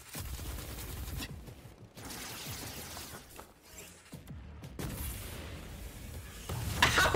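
Bazooka fire in a Honkai Impact 3rd animated sequence, a rumbling flurry of explosive blasts and crashes layered over a dense action soundtrack, with no voices.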